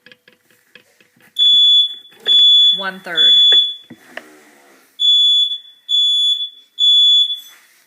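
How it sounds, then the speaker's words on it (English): A household smoke alarm shrills in six loud, evenly spaced electronic beeps while someone cooks, after a short bit of speech at the start. "for some reason the smoke alarm is going off."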